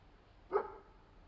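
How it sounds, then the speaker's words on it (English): A dog gives a single short bark in a quiet hall during a public question-and-answer talk, clear but at moderate distance against a soft background. "The dog agrees."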